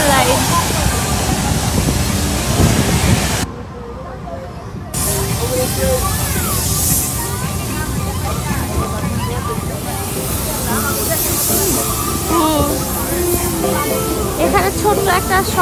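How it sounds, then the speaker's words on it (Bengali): A water ride at Barry Island amusement park sends out a steady, loud hiss of spraying water, broken by a short gap, while crowd chatter and voices carry beneath it throughout. "তো ওয়াও, ওয়াটার রাইড।"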